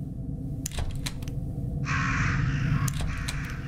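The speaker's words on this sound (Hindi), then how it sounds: "यहाँ पे कौवे उड़ रहे हैं पागल की तरह." Crows caw repeatedly in the video game Play Time, several harsh calls in quick succession with a louder burst midway, over a low rumbling background.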